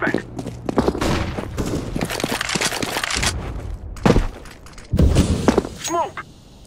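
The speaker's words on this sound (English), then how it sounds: "I'm throwing a flashbang." A flashbang grenade is thrown in Counter-Strike: Global Offensive, with sharp broadband blasts near the end of a busy stretch of game audio full of gunfire-like bursts and thuds, while voices talk underneath.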